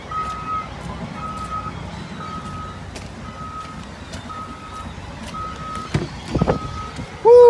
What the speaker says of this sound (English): that's a contractor truck right there